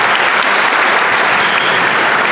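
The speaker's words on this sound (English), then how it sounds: "please give them their just applause" Steady, dense applause from a graduation ceremony audience at GIHS, a continuous wash of many hands clapping at once with no break, filling the hall evenly throughout.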